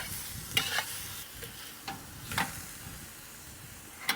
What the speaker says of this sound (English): with a carbon steel wok, you want to make sure it's a hot surface all the way around, so you want to make sure that's why you're stirring it quite a bit